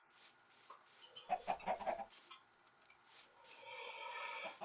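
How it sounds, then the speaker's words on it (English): Minecraft chickens cluck in short, bright bursts over a quiet background, a few scattered calls near the middle and start. "Chickens are still in charge out here."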